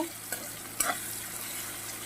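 Elephant foot yam stalks with salt being stirred in a pan, a low sizzle under a few light spoon scrapes and knocks early on, then quiet frying alone.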